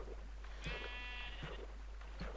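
A Minecraft sheep gives one clear, nasal bleat near the start, followed by a few soft game clicks and footsteps under a steady low hum, with no talk.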